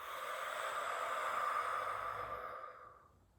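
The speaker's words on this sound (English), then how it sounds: "So you're gonna breathe in, feeling your belly rise" One slow, deep breath out through the mouth, a soft airy rush that holds steady and then fades away into silence. It is close but quiet and comes during a calming belly-breathing exercise.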